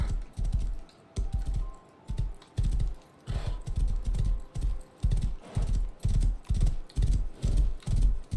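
Horse hooves gallop in a video game, a fast, steady clip-clop of repeated loud thuds in regular bursts, close and alone with no talking.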